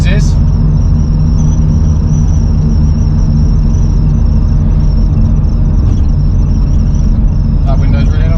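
A crashed-and-repaired BMW M2 Competition is driven, its engine and road rumble a loud, steady drone inside the cabin throughout, with a few light rattles and knocks.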